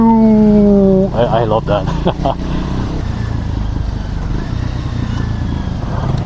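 A scrambler motorcycle's engine note drops in pitch as the rider rolls off the throttle, a loud, close whine falling away over about a second before a voice speaks over the low idle and wind.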